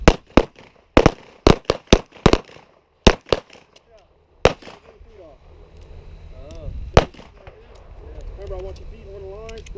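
Pistol shots crack out at an outdoor shooting range during a defensive drill, a quick string of sharp close reports, some in rapid pairs, followed by an instructor talking.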